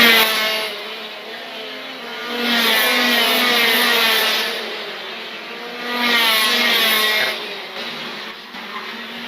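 Shifter racing karts at Tri City Kart Klub roll past with sharp two-stroke engine buzz, rising and falling in two loud waves as the pack passes close, then easing back to a steady drone.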